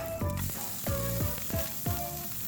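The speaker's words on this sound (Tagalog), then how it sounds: "i-deep fry mo lang siya sa napakahinang apoy hanggang sa lumambot yung potato" Potatoes deep-fry in oil over very low heat, giving a steady soft sizzle that stays close and even for a few seconds, while a tonal melodic layer runs alongside.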